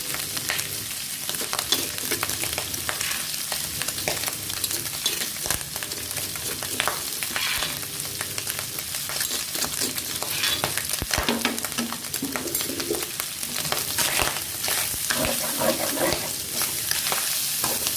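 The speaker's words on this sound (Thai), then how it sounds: "ใส่กระเทียมพีิไทยรากผักชีที่เราโขลกไว้ลงไปนะคะ" Pounded garlic, pepper and coriander root sizzle steadily in hot oil in a pan for Thai-style braised pork head, a continuous loud frying hiss with occasional stirring scrapes and clinks.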